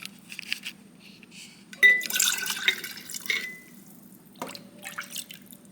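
Chicken bone broth spooned into a glass quart jar: soft liquid splashes and pours with light clinks against glass, brief and close, over a faint steady background hum.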